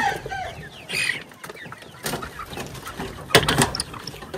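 Chickens cluck in a poultry shed where birds are dying in extreme heat, with chicks among the flock; several hens call in overlapping bursts close by, with occasional wing flutters and a louder squawk near the end.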